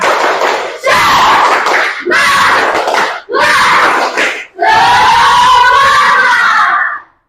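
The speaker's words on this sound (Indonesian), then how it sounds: "tepuk semangat." Children in a classroom chant and clap in unison in the tepuk semangat routine, loud and close, in four bursts of rhythmic clapping and shouted syllables separated by short pauses, with the last burst the longest.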